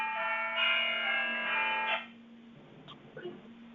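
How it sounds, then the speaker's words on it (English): Several church bells ring together in a steady, sustained chime that fills the first two seconds, then falls away to a faint hum with scattered small knocks. "sounds like the church bells are ringing"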